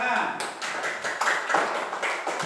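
Classroom applause breaks out as a group of students claps together in quick, uneven bursts, with voices mixed in among the clapping.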